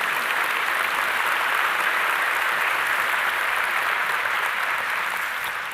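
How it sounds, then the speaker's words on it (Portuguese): A congregation applauds during a church service, a dense and steady wash of clapping that holds unbroken for several seconds with no voices above it. "Pode aplaudir Jesus."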